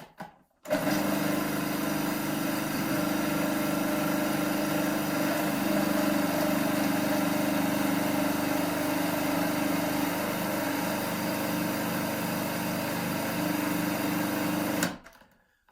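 A blender runs steadily for about fourteen seconds, whirring loudly as it grinds hemp seeds and pine nuts into a nut butter, then cuts off; no talking.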